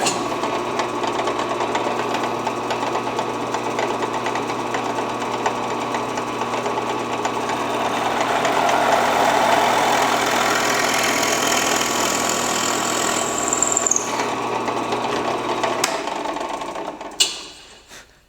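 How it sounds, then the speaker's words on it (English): A steady mechanical whine of a power drill boring a 5/16-inch hole into a guitar neck runs continuously for a long stretch, then stops and winds down. "we're going to go ahead and drill a 5/16 hole."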